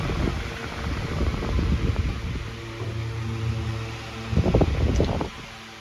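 A Homestar 10-inch high velocity stand fan runs and oscillates in a kitchen, giving a steady close airy whoosh that swells and fades slightly as the head sweeps, with a louder gusty rush near the end.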